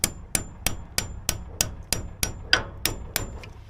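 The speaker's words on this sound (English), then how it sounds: "I'm going to hammer it some more" A wire stripper is hammered through a greasy part, giving about twelve sharp, evenly spaced metallic strikes close up, each ringing briefly before the next, with no talking.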